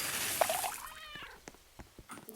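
A cat meows in a video game, a short rising-and-falling cry heard up close, followed by a few faint clicks and soft game sounds.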